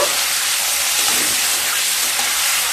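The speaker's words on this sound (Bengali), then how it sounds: "চিংড়ি মাছগুলোকে ভালোভাবে ভেজে নিয়ে তারপর ফিরে আসছি" Prawns sizzle in mustard oil in a kadai, a loud, even hiss of frying heard close up for a few seconds, with no speech.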